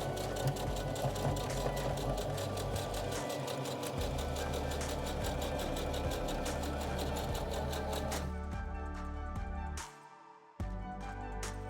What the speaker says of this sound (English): I'm gonna back stitch to start and then make my straight stitch all the way down.